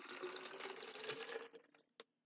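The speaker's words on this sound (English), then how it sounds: "So let me pour some water in my water bottle." Water pours steadily into a water bottle for about a second and a half, then the stream stops, leaving a few short trailing splashes and one final drip.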